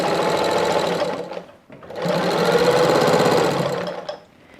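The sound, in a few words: sewing machine stitching patchwork quilt binding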